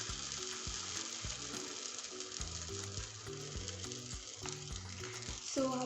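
A homemade pancake sizzles steadily in butter in a frying pan, a close, continuous crackling hiss with a faint background hum of music.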